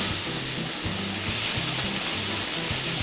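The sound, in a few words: Pacific saury (sanma) grilling, skin sizzling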